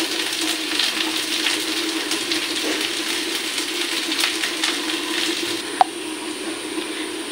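Lentils frying in a pan, a steady dense sizzle with faint stirring scrapes and one sharp click near the end, close and fairly loud, no voices.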